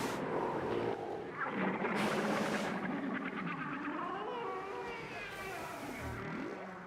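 Humpback whales calling underwater, long tonal moans and rising and falling whoops with harmonic sweeps layered over a steady low rumble, several overlapping voices sounding close and strong across the whole stretch.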